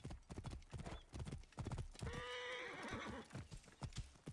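A horse in Assassin's Creed Origins gives a clear whinny midway while hooves clip-clop steadily throughout, mixed with game ambience and faint talk.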